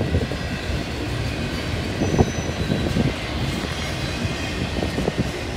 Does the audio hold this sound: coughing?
no